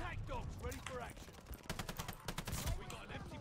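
Gunfire in the Call of Duty Vanguard video game, a dense burst of rapid shots and fusillade crackle running throughout, with a player talking over the fighting.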